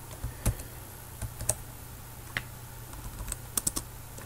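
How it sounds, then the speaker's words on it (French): Keys on a computer keyboard tapped in short irregular clusters while a program name is typed, quiet and close, with a faint steady hum underneath and no voices. "Je tape le nom du programme"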